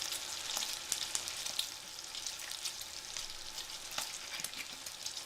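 Amatriciana sauce frying in a pan with white wine, a continuous close crackling sizzle with scattered sharp pops and occasional stirring clatter, no talking.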